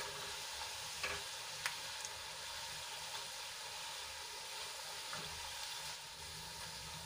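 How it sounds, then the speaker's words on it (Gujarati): Gram flour sev fries in hot oil, a steady soft sizzle and hiss running throughout with a couple of faint clicks from stirring, fairly quiet and without speech. "સેવને તળાતા વાર નહીં લાગે."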